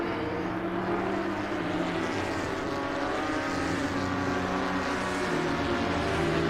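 Continuous droning engine roar of several Porsche Cup race cars in a racing video game at Oulton Park, a steady, dense whine that holds at an even level throughout.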